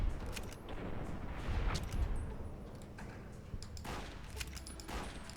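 Gunfire in the video game Fallout New Vegas, a rumbling stretch of shots and booms with several sharper bursts, dense and continuous with no speech over it.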